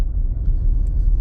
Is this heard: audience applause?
no